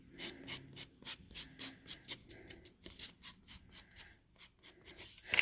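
320-grit sandpaper rubs gently over a wooden kitchen chair piece in quick, close, faint rhythmic strokes, each a soft rasping swish separated by brief pauses.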